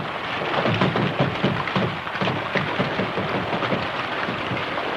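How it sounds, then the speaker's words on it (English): Steady heavy rain pours down, with low rumbles of thunder rolling underneath throughout; loud and close, no voices. "Holy smokes, it's raining."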